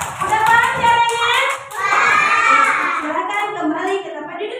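Children clap their hands together in a classroom during an Islamic religious education lesson led by a teacher, a loud burst of clapping mixed with children's voices.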